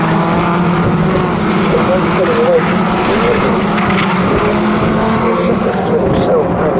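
MG Owners Club race cars at Snetterton circuit, a continuous blend of engine noise from cars passing in a close group, steady and fairly loud beneath a running commentary voice.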